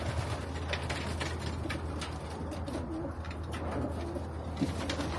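Bred pigeons coo continuously inside a loft, low repeated calls near the microphone over a steady hum, with a brief knock near the end; no talking.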